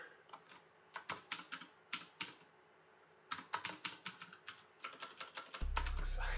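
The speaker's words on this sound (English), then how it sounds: "My typing is terrible." Typing on a computer keyboard comes as bursts of quick, close key clicks separated by short pauses, with a brief muffled thump near the end.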